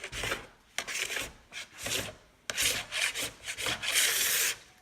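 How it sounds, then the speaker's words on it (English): A plastic scraper drags across a waxed snowboard base in repeated rough, raspy strokes, close and fairly loud, with brief pauses between passes and no talking. "we're gonna do some scraping here, which you should when you put as much wax on as I do"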